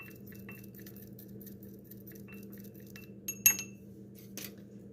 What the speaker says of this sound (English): Use a wooden stick or spoon to stir your ingredients together.